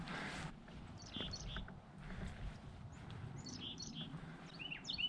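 Several small birds chirp and tweet in short, scattered calls from dense briars, faint against a soft background hiss.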